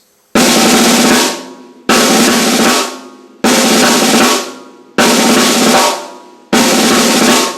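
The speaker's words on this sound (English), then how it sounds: "Next we can add 2 sets of them back to back." Pairs of six-stroke rolls played back to back on a snare drum, heard as five loud, dense bursts spaced about every second and a half, each ringing out briefly before the next, close and unaccompanied.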